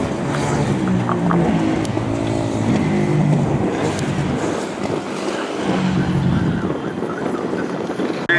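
Engine roar from a 200cc junior solo speedway motorcycle running laps at Rosebank Speedway, loud and continuous, rising and falling as the bike passes around the track.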